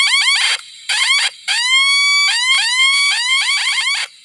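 A toy communicator sounds a warbling electronic alarm in repeated rapid chirping bursts with short gaps. One longer sweeping tone runs through the middle, all loud and close with no talk.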